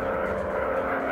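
A WW1 fighter plane's engine in the VR game Warplanes gives a steady, loud droning roar up close, unbroken for the whole moment.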